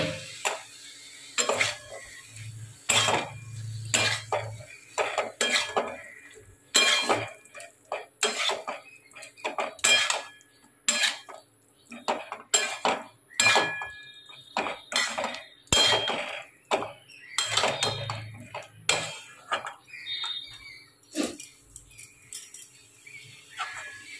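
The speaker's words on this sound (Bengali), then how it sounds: "আলুগুলোকে দিয়ে খানিক নেড়ে চেড়ে নেবো" Boiled potatoes being stirred in a cooking pan, a long run of spaced spatula scrapes and clinks against the metal, close, with quiet gaps between strokes and no speech.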